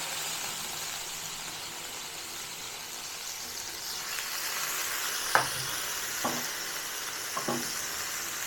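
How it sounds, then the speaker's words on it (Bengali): Bhetki fish pieces marinated with onion and garlic frying in hot oil, giving a steady soft sizzle throughout with a few sharp pops and spatters toward the end. "এবার এগুলোকে একটু ফ্রাই করব"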